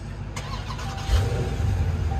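A car engine cranking at close range as someone tries to start it, with a low rumble that swells after about a second and then keeps churning unevenly, as though it struggles to catch.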